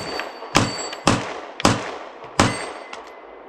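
A Glock 45 MOS pistol fires Federal 115 grain factory ammo, four sharp loud shots spaced about a second apart, each with a ringing echo tail and a faint metallic clink.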